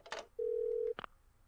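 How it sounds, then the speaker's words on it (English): A phone in the video game Parasite Eve 2, used in a motel room: a short burst of noise, then one long steady electronic tone, then a brief click-like beep to close. "Alright, let's use the phone."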